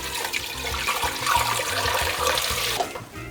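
Water pours into a pot to start a sugar syrup, giving a full, rushing splash that runs steadily for nearly three seconds before cutting off abruptly.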